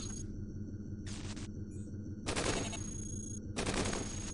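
Gunfire from a pest robot in the Cogmind roguelike game, two loud synthetic bursts of rapid shots over a steady electronic hum, with a couple of softer short bursts before them.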